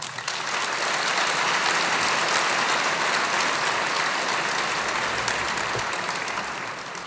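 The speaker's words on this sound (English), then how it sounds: "and we applaud that." An audience at a university talk with a CNN journalist breaks into sustained applause, a dense, even wash of many hands clapping that holds steady for several seconds before tapering slightly.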